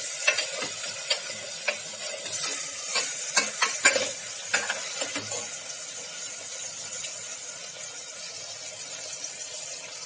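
Mutton seasoned with asafoetida frying in a pan, with a steady loud sizzle and repeated scraping stirs of a spoon through the meat, for mutton and spinach.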